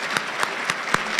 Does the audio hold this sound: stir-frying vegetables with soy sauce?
no